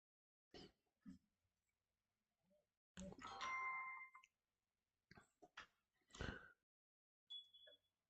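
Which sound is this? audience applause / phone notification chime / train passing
phone notification chime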